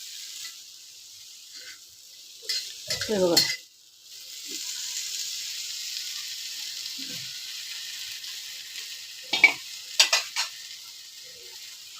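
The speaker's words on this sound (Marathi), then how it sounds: "रताळी आपण भाजतोय" Sweet potatoes roasting in ghee on a tawa give a soft, steady sizzle with bursts of scraping and stirring, while a voice speaks briefly.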